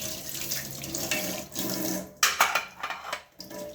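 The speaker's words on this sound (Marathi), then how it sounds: "भांडे धुवून झाले." Tap water runs steadily into a kitchen sink while dishes are washed during a morning routine, with splashing, soft clinks of pots and utensils, and changes in the flow as items pass beneath it.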